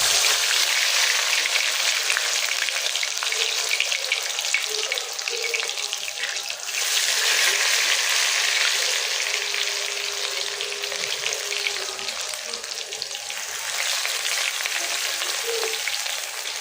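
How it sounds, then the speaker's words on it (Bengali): Battered pumpkin leaf fritters fry in hot oil with a loud, steady hiss and crackle that continues without a break, close up and without voices. "এটা এখন ভেজে নেব তেলে"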